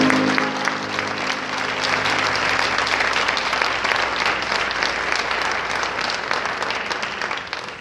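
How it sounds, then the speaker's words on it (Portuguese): A church congregation at a women's gathering claps steadily and loudly, a dense, sustained round of applause filling the room for several seconds, fading slightly toward the end. "Você pode aplaudir ao Senhor."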